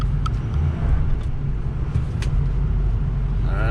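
A 2005 Ford F250 truck backs up slowly in four-wheel-drive low range, giving a steady, close engine and drivetrain rumble that runs without a break and has no talk over it.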